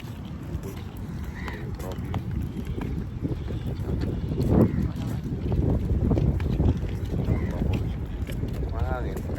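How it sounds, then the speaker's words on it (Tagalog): Steady wind in Saudi Arabia buffeting the microphone with a low rumble throughout, while people talk over it. "Mahangin."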